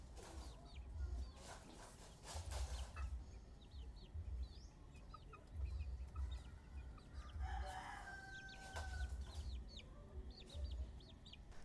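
Chickens and chicks in a poultry pen with rhythmic low clucking, scattered chick peeps and a distant rooster crow, fairly faint.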